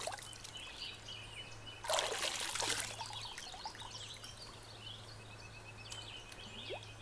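Sacred water poured during a blessing ritual: a brief, fuller splash of pouring near the start, then a thin steady trickle and dribble running on alone, with faint birdsong outdoors and a low constant hum.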